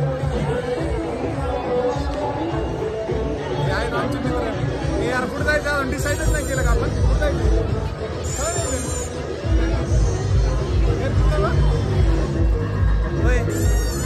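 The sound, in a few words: large crowd at Shri Sant Shekh Mohammad Maharaj fair, Shrigonda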